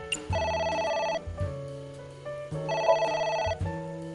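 A telephone in AI The Somnium Files rings in two clear, close bursts of trilling bell tones over a low hum, with a short pause between them.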